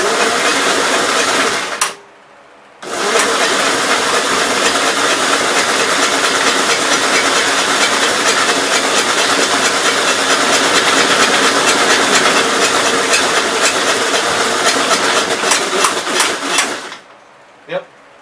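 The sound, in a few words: 1957 Gravely SR engine running after top end rebuild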